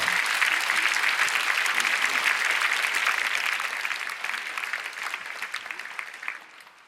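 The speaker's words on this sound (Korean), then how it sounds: "환영의 마음을 담아 힘찬 박수로 맞이하겠습니다" Audience at a Korean church Daniel prayer meeting gives a hearty round of applause to welcome the guest speaker, sustained and full before tapering off toward the end.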